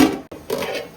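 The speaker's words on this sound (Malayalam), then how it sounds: "നമുക്കിനി അടപ്പിട്ട് അടച്ച് വയ്ക്കാം." A lid set down on a pot of biryani rice, one brief close clatter of cookware followed by a second settling rattle.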